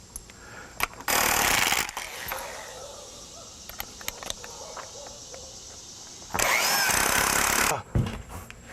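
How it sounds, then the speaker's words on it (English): An impact gun drives 3-inch lag bolts with washers and 3/8-inch heads into a 6x6 post on a DIY patio cover, giving two loud sustained bursts of rattling hammering, one about a second long and a later one of about a second and a half. "I'm using 3-inch lag bolts with a washer on the end. It's a 3/8 inch head on there. And this gun takes it in like it's nothing"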